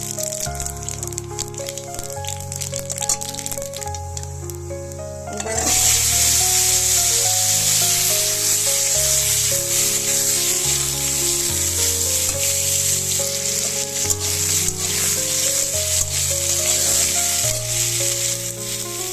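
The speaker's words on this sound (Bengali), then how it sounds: "তো একটু হালকা করে ভাজা করে নিচ্ছি।" Pointed gourd with five-spice seeds sizzles loudly in hot oil, a steady close frying hiss that surges when ingredients go in, over soft background music.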